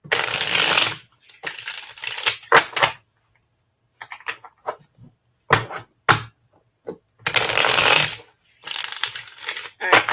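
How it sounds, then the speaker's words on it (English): Someone shuffles a deck of cards in several bursts of riffling and soft clattering, separated by short pauses and a few quiet taps, all close by. "Get a really good shuffle on these."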